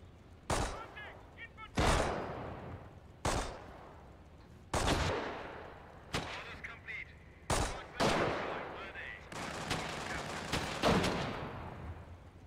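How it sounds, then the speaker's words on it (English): Machine gun team firing in Company of Heroes, a World War II strategy game: repeated bursts and sharp gun reports at irregular intervals, moderately loud, among other battle noise. "Machine gun moving."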